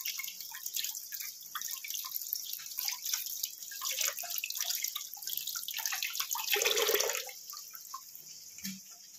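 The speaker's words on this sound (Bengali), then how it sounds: "এবার এইটা ধুচ্ছি।" An item being washed under a running water tap, with steady close splashing and dripping water throughout, swelling louder near the end, and no talk.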